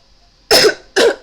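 Two harsh, close coughs from a woman with a lingering illness and a strained voice, each a short loud burst about half a second apart, in an otherwise quiet indoor room.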